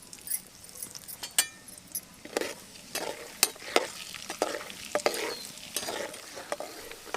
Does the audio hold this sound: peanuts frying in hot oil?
yes